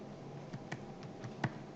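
Keys on a computer keyboard are pressed, including Ctrl and the tilde key, producing a handful of sharp, close clicks spaced irregularly over a quiet room hum with no talking.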